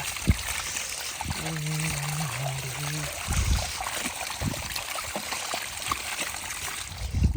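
Irrigation water trickles and flows steadily through a farm field under a continuous watery hiss, with a few brief splashes and knocks; a short voice or tone passes briefly early on.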